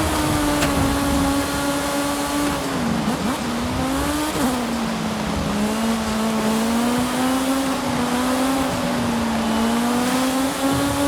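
A tiny Peel 50 microcar in Forza Horizon 5 held at full throttle, its thin buzzing engine droning loud and steady for the whole stretch, pitch wavering slightly through a corner, with no talk over it.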